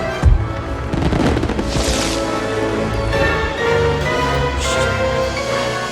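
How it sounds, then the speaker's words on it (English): Fireworks bursting during a lavish party scene in a film, dense booming explosions and crackles layered under music and crowd noise, continuous and loud throughout. "Fireworks."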